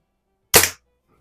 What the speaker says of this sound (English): I'll shoot this at one bullseye and then the Red Ryder at the other bullseye